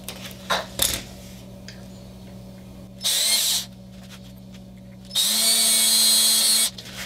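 A power drill whirs through plastic in two bursts, a short one then a longer one, after a few light clinks.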